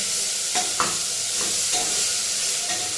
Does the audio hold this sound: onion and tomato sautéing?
yes